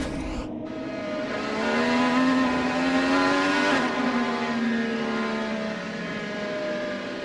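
An IndyCar race car at the 2021 Road America Grand Prix loses power: a loud, steady engine drone holds, then its pitch sags and slowly winds down as the engine dies.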